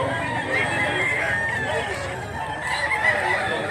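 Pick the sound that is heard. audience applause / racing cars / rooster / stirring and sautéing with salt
rooster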